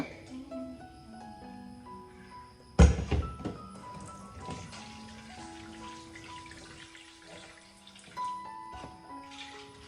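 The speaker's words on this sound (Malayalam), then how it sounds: "ബാക്കി നമുക്ക് ചുടുവെള്ളം ഒഴിച്ച് കൊടുക്കാം കേട്ടോ. നല്ല തിളച്ച വെള്ളമാണ് ഒഴിക്കുക." Boiling water is poured into pink neer dosa batter, starting with a sudden splashing pour that gurgles for a second or two, then fades into quieter stirring and kitchen clatter, with faint tonal hums in the background.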